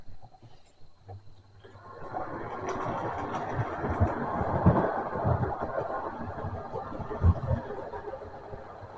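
A model railway tank locomotive starts up and runs on a layout, a close rattling rumble with rhythmic clicks over track joints building after the first couple of seconds and holding steady.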